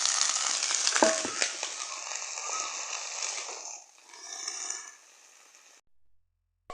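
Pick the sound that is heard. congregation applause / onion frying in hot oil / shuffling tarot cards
onion frying in hot oil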